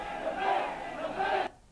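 A crowd of protesters in the street after Friday prayers shouts slogans in loud rhythmic bursts, two surging chants rising and falling before cutting off abruptly.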